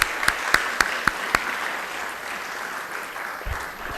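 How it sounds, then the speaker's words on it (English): An audience at a university research showcase in a hall applauds, opening with a few sharp, distinct claps that give way to a softer, scattered patter of clapping fading out. "Can we have a big round of applause?"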